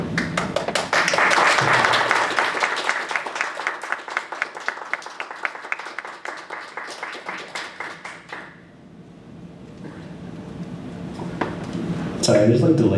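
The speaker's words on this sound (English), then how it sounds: "Yeah, there you go. Applause." Online audience applause for a male VTuber, a dense stretch of rapid clapping that thins into sparser claps, with the host speaking over and after it.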